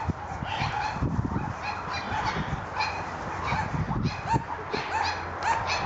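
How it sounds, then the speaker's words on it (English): Several big dogs bark excitedly on a farm, aimed at cows, a rapid overlapping stream of loud barks and yelps with some whimpering, fairly near and outdoors. "Big dogs are over there barking at the cows"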